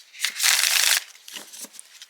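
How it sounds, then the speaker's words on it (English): A deck of oracle cards made of smooth standard cardstock is shuffled close up, with a dense riffling burst followed by a few shorter, softer flicks and slides. "let's give it a shuffle"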